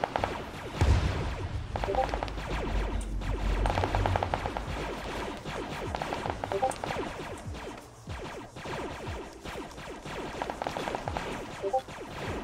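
Rapid bursts of automatic blaster fire and scattered shots crackle through a Star Wars video game battle, dense and continuous for several seconds with a busy combat wash underneath.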